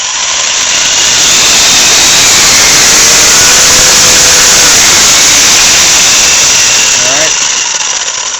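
Traxxas Rustler RC car with a 2200kv motor on a 6-cell setup whines steadily at half throttle, a loud, continuous high-pitched electric roar held for several seconds close by, with a voice talking briefly near the end.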